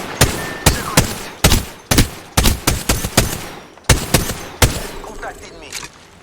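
Rapid bursts of gunfire from the video game Apex Legends ring out in a loud, irregular string of about fifteen sharp shots, each with a short decaying tail, heard close and alone.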